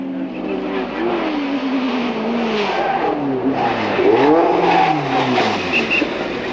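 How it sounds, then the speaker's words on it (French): A Chevron B16 race car braking late at a historic race at Montlhéry, engine loud and close with pitch sweeping down and back up as it downshifts, revs and accelerates away, a steady roar throughout. "la magnifique chevron B16 pilotée par Gérard Burgal nous offre ce que l'on appelle un freinage tardif du très beau spectacle"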